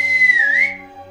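A cartoon boy in a Telugu Jungle Book series lets out a single clear whistle as a challenge, steady, then briefly bending in pitch before fading out.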